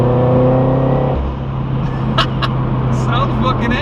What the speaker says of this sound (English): I do love a good turbo blow off.